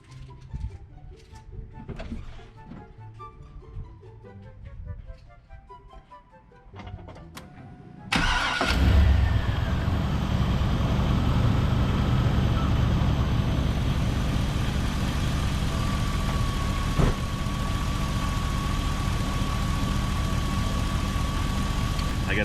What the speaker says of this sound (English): Now I'll start the truck up and turn the air on.